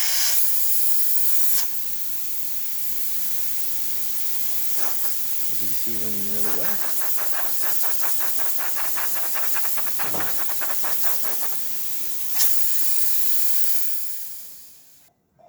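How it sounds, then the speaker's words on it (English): Breville espresso machine steam wand hissing in a long, loud, steady spray, with a rapid sputtering pulse partway through, as someone talks briefly over it. "Now we're going to test the steam function."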